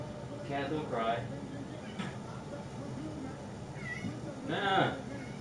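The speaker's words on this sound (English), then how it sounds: "Cat, don't cry." A pet cat meows several times at close range, short plaintive calls spread across a few seconds, with a voice speaking around them.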